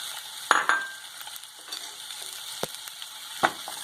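Chopped tomatoes tossed into a pan of frying capsicum for soya chilli, giving a soft sizzle broken by a few sharp spoon scrapes and clicks as they are stirred.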